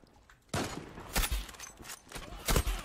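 Gunfire in the online shooter Zula, several bursts of rattling shots at moderate distance separated by short pauses, sounding fairly soft.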